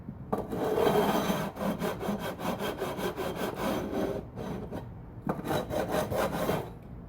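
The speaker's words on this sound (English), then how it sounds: "bevel these fret ends back on both sides" A coarse file bevels the fret ends on a vintage Alvarez 12-string guitar in rapid back-and-forth rasping strokes, a steady scraping rhythm that breaks off briefly partway through and then resumes, close up.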